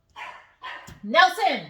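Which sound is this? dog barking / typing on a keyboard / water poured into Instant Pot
dog barking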